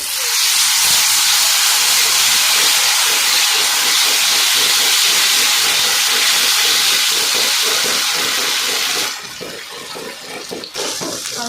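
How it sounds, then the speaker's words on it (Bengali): Dried red chilies, bay leaves and cumin seeds with a ground ginger-chili-cumin paste sizzle in hot oil in a wok, a loud steady hiss that drops abruptly near the end and continues more quietly. "কড়াইয়ে শুকনো লঙ্কা তেজপাতা জিরে ফোড়ন উঠে গেছে আর শুকনো লঙ্কা আদা জিরে বাটা দিয়ে দিচ্ছি"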